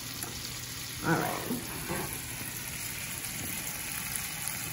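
Chopped onions sweat in a hot pan for a smoked sausage and zucchini dish, giving a steady soft sizzle throughout, with a brief stirring scrape near the start and a short spoken remark over it.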